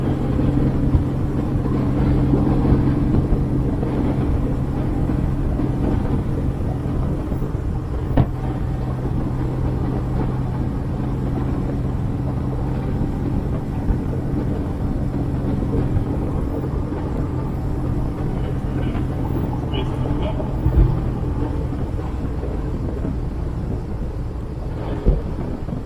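An MGB fitted with a V6 Camaro engine accelerates on a test drive, making a steady, loud, low engine rumble heard from inside the car, with wind and road noise and no talking.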